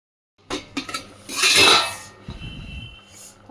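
Metal lid set onto a pot of boiling lentils in a home kitchen: a few sharp clanks and a scraping clatter up close, followed by a low bubbling rumble.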